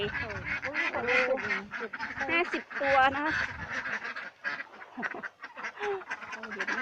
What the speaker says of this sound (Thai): มาดูแล้วเป็ดกันนะคะ เป็ด เป็ดอะไรคะเนี่ย เป็ดไข่